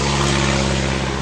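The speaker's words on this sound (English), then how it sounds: "so I'll just wait for the plane." A propeller-driven aircraft drones steadily overhead in an outdoor setting, a loud continuous engine hum with strong low harmonics and broadband airflow noise filling the whole moment, no voices present.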